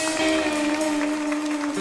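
A church congregation applauds Jesus during a Pentecostal-style sermon, a short burst of clapping under sustained organ or keyboard chords, lively and close.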